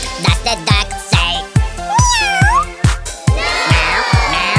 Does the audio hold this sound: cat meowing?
yes